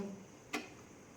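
A single short click of a gas stove knob being turned off sounds once in an otherwise quiet room.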